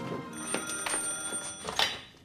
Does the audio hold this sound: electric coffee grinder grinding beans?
no